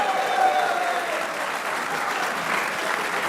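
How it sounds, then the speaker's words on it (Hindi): Studio audience applause for a cricket player on a Pakistani TV sports show after a match against India, a dense steady wash of clapping at even loudness throughout with no voices over it. "आला कारकर्दगी पे शादाब के लिए भी तालियां होनी चाहिए"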